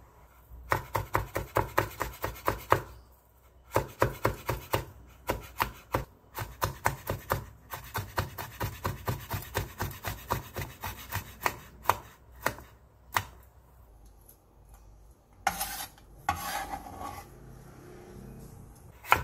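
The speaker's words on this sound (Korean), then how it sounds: "건대추 20개를 돌려 깎아 씨를 발라낸 뒤 얇게 채 썰어주세요." A knife thinly julienning pitted dried jujubes on a cutting board: rapid, regular close taps in long runs with brief pauses, then a few scattered cuts and rustling handling sounds.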